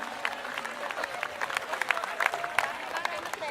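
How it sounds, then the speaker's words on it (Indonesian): Audience applause for Wani after a reading of Wiji Tukul's poetry, a broad patter of many hands at steady moderate loudness with crowd voices mixed in throughout. "kita beri tepuk tangan untuk Wani"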